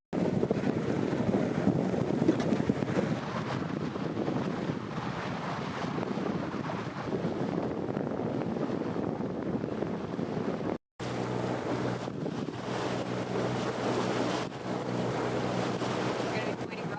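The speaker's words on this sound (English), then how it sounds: "Be nice motoring." A sailboat motors across a calm sea on a passage to La Paz, with a steady low engine drone beneath constant broadband wind and water rush. A brief dropout near the middle is followed by a more distinct engine hum.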